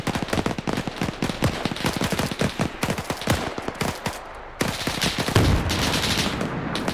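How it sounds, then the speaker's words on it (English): An anti-aircraft gun in a WW2 tank video game fires on infantry in a rapid, sustained burst of loud shots, a dense rattling stream that briefly pauses and resumes with heavier booms nearby. "they're using the AA gun on the infantry"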